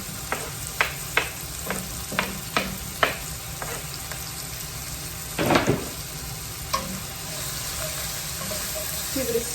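Onion, carrots and celery fry in a pot under a constant hiss, punctuated by a series of light rhythmic spoon taps and one louder stirring scrape.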